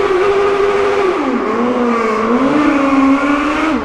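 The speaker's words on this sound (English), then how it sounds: "here's my rev bomb for 5150." A car engine revs hard inside a tunnel, a loud, close, echoing roar whose pitch holds, dips, then climbs and wavers over several seconds without any talking.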